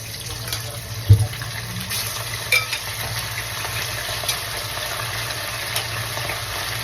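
Spare ribs sizzle in hot oil in a pan for sweet and sour spare ribs. The frying makes a steady, close hiss with a low hum underneath and a soft knock near the start.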